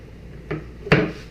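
A newly built wooden cabinet door, made with pocket-hole joinery, swings shut: a light tap followed by a firmer, close knock as it closes, inside a quiet room.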